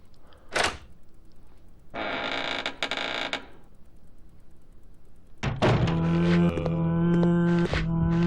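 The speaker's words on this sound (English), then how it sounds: "You've unlocked the door." A door unlocking and swinging open in the survival horror video game Resident Evil Code Veronica, with a short thunk and a creaking, scraping stretch, then a loud mechanical rumble with sustained tones.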